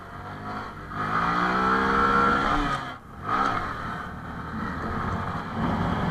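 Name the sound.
Honda MSX SF minibike engine revving during a wheelie in second gear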